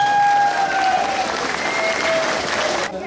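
Crowd applauding at a December calenda festival in Tlahuitoltepec, steady clapping throughout with a faint voice over a loudspeaker, ending abruptly near the close.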